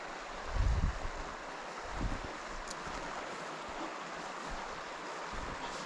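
Stream water rushes where two streams meet amid bracken, a continuous broad wash of flowing water with a few low gusty thumps of wind noise near the start.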